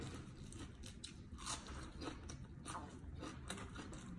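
Close, soft crunching and biting of raw vegetables such as Chinese cabbage eaten with chili paste, steady chewing repeating throughout at a low level.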